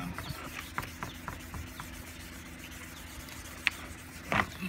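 A plastic headlight is hand-sanded with 1500 grit sandpaper, giving quiet, repeated rubbing strokes at close range with a few sharper scrapes toward the end.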